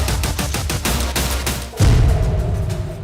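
A drone swarm strikes Israel's Harakia base, producing a rapid string of sharp blasts that pop in quick succession, then a heavier, louder rumbling burst rolls in and lingers.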